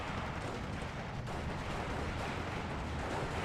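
Mortar artillery barrages in the Steel Division 2 war game, a dense continuous rumble of distant blasts and gunfire filling the background with no clear single impacts.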